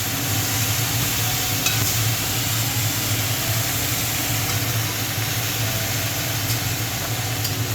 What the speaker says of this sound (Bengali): আমি বেটে নিয়েছিলাম রসুনগুলো, এগুলো দিয়ে দিচ্ছি। এগুলোকে লাল লাল করে ভেজে নেব।